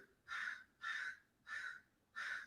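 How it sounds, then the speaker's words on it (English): Crows caw at a cat in four loud, harsh calls evenly spaced about half a second apart, each call sustained and close, with nothing else audible between them. "Whoa, crow party."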